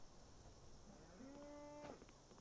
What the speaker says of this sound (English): Cow going moo at us while we're trying to talk